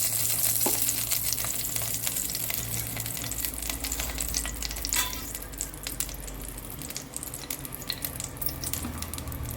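Ghee heats in a pan on a gas stove for a tempering, made for a Samvedi-style peanut amti and pulao. A steady, close sizzle and hiss runs the whole time, with faint clinks and no talking.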